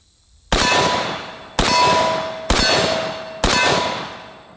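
Bullets from 7.62x39 AK ammunition hit a steel plate target in four loud, evenly spaced clangs, each bright metallic strike ringing out and fading before the next.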